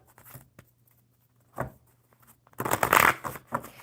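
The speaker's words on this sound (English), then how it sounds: "I am going to shuffle the enchanted map cards for you" Enchanted map oracle cards shuffled by hand, a couple of brief papery riffles and then a longer, louder flurry of cards slapping and sliding close to the microphone.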